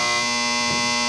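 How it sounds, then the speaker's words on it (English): A quiz game buzzer at a 1980-81 high school varsity quiz bowl match sounds one steady, harmonic electric tone for the whole short moment, loud and without a break. "the buzzer rang and that climaxed the game."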